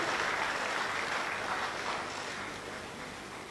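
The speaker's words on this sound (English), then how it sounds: "Kita beri tepuk tangan meriah." Audience at a formal ceremony attended by Australian and Indonesian trade ministers applauding: continuous, even clapping that sounds fairly distant and quiet, easing slightly toward the end, with no talking.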